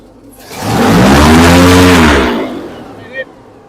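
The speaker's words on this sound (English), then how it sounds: "Now that it has a brand new gas line, it accelerates so good. I can hit the gas for just a second." An airboat fitted with a new gas line, run in the Everglades, its engine revving hard for a second or two in a loud, rising roar that then falls away, followed by a brief faint knock.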